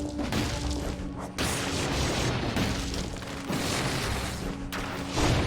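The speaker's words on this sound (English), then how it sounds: "Although I don't mind throwing 2 tiny grenades." Two small grenades blowing up in the Dead Cells video game: a dense run of loud, crunchy explosive bursts rolling over one another, with sharp onsets near the start, middle and end, and no voices.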